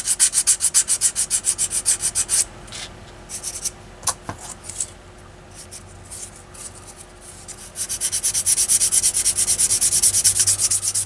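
Sanding a B-47 Stratojet scale model, with steady rhythmic rubbing strokes close up that pause briefly midway with a few light taps, then resume as continuous back-and-forth scraping.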